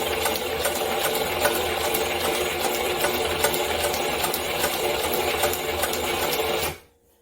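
A sewing machine stitches steadily and loudly, running in a continuous whir for nearly seven seconds before stopping abruptly, with no talking over it.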